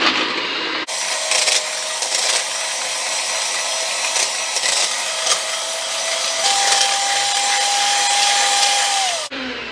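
An electric hand mixer whips whipped cream into cooled custard for magnolia pudding, a loud steady motor whine that shifts pitch midway and cuts off at the end.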